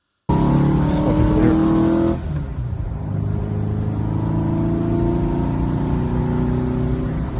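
Classic squareback car engine with carburetors on the exhaust, humming loud and steady close by, a brief rise at the start then settling into an even drone with no talk.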